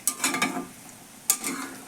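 Green chilies and onion hit hot oil for an aviyal tempering, giving two short bursts of crackling sizzle, each with a sharp onset that fades into steady frying. The sizzle is close and fairly loud, with no voices.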